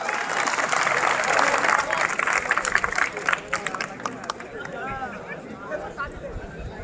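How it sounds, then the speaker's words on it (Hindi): School assembly audience giving loud, dense applause to welcome a student speaker, sustained clapping that fades out after about three seconds, followed by a voice speaking alone. "जोरदार तालियों से स्वागत करेंगे धीरज कुमार का।"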